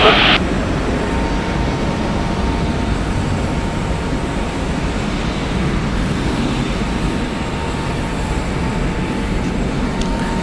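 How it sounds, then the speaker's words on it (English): A 22-year-old Delta Airlines Boeing 737-800 jet departing Atlanta Hartsfield-Jackson airport, giving a constant loud engine rumble with a faint high whine, heard alone. "Departing Delta Airlines flight 1660, going to St. Louis. It is a Boeing 737-800, 22 years old."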